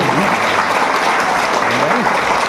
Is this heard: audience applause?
yes